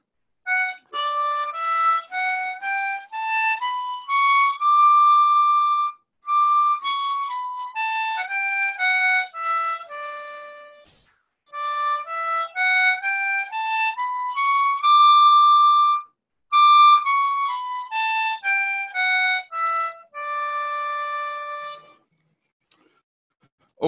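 A harmonica plays a rising and falling major scale over and over, clear reedy notes in quick steps with short pauses between runs.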